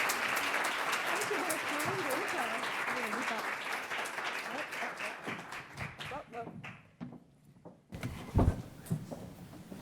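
An audience claps steadily to welcome author Amity Shlaes to a talk on Calvin Coolidge. The applause fades after several seconds into scattered claps, followed by a brief silence and a few thumps.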